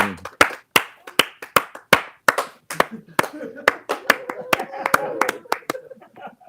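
Clapping from a few people on a fishing show, sharp distinct hand claps in a loose, uneven rhythm, close and fairly loud, with voices and light laughter joining in partway through.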